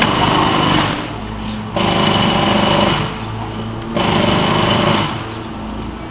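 A motorbike engine runs steadily nearby, a buzzing high-pitched drone that swells louder and eases off in cycles as if revved, with no talk over it.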